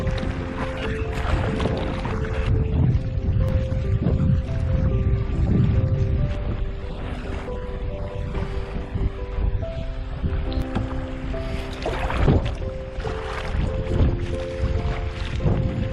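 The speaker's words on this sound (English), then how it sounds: "I'm kayaking about a half mile to our campsite" A kayak is paddled across open lake water off Grand Island, Michigan, with steady strokes and water washing against the hull under a continuous wind rush, close and fairly loud throughout.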